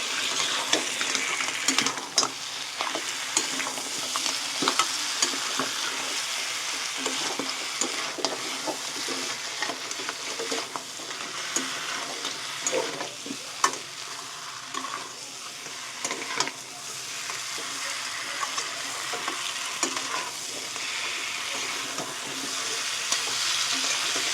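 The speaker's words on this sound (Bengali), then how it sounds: "এর মধ্যে আমি ভেজে রাখা কাঁকড়াগুলো দিয়ে দেবো এবার। দিয়ে একসাথে কষিয়ে নেবো সব।" Fried crabs are stirred and sautéed in a pan for a crab curry. A steady, busy sizzle runs throughout, broken by frequent scraping clicks of the spatula, with no voices.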